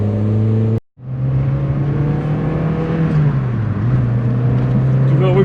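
Renault Clio Williams engine revving hard and close, a loud steady drone that cuts out briefly near the start, then returns and dips in pitch before climbing again.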